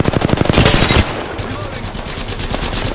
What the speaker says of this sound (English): I am taking fire, friends. Open fire on the enemy.